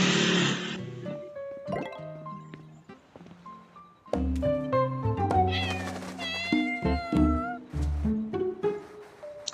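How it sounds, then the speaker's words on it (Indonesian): A cat in the video game Heartopia meows several times, clear and close, with bright rising and falling cries clustered in a lively run over the game's soft background sounds. "Ada kucing."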